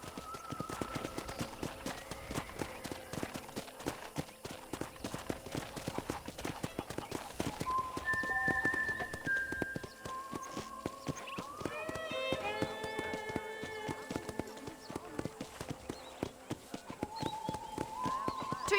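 Horse hooves from the western video game Red Dead Redemption clip-clop in a steady, brisk rhythm, moderately close, with whistling tonal game sounds and a brief whinny-like call over the beat.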